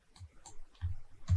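A computer mouse clicks a few times, sharp and close, in an irregular rhythm while working in BIM software.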